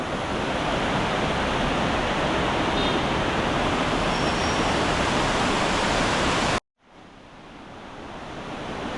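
Loud, constant roar of the Njandirukki waterfall in Idukki, Kerala, crashing nearby, a dense broadband rush that cuts out abruptly near the end, then returns more faintly.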